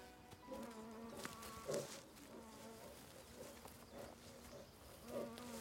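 Mountain bees in spring hum in a sustained, close buzz with a clear tonal drone, swelling slightly at moments as individual insects pass near.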